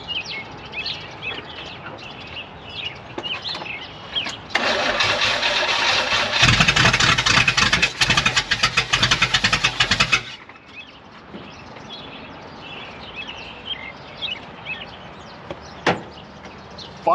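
1972 Oldsmobile 98 engine cranking and catching after a long layoff, a loud grinding crank then rough running for several seconds before cutting off, followed by quieter shuffling noises.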